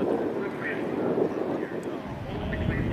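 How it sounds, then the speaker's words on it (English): A Cessna 310 twin-engine plane lands with its right landing gear collapsing and veers across the runway, giving a steady, fairly loud engine and wind rumble throughout with no distinct impact standing out. "The Cessna 310 plane faced right landing gear collapse while landing and veers throughout the runway."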